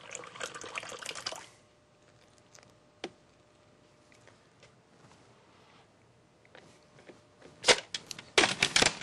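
A food processor pulses a pie dough mix of flour and water, short bursts of loud whirring and chopping at the start and end, with quiet clinking and handling in between.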